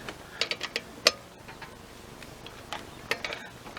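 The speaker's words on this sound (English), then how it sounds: "we've got to loosen the wheels" Wheel nuts on a BMW 1 Series being loosened with a ratchet tool, a quick run of close metallic clicks and ratcheting ticks in short bursts with brief pauses between them.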